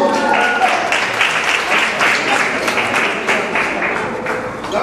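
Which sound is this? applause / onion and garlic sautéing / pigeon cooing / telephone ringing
applause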